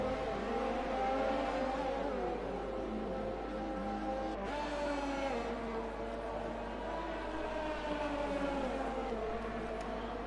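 Loud racing car engine at the Interlagos circuit during a World Racing Series finale, a sustained roaring drone with shifting pitch that holds steady and close for the whole stretch.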